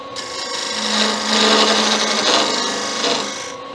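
Skew chisel shearing wood on a lathe while turning a figurine's flat base, a steady loud rasping hiss that swells and eases over a few seconds with no talk.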